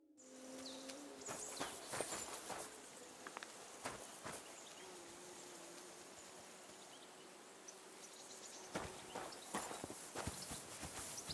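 Horses' hooves clip-clop along rocky paths in the medieval game Kingdom Come: Deliverance II, a steady irregular patter of moderate-distance steps over a constant outdoor hum with buzzing insects.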